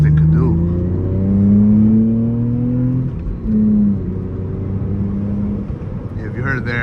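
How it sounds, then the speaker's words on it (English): A 2003 Lexus IS300 with a slipping clutch, heard from inside while driving: engine drone rises and falls through steady revving and shifts, with some talk over it. "if you heard it there, the clutch slips a little bit"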